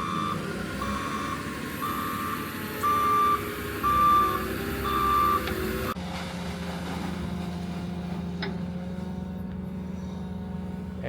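Loader dumping compost into a pickup truck bed, with a steady engine drone and repeated reversing beeps, a few louder scraping thumps, then the machine noise drops to a lower idle rumble.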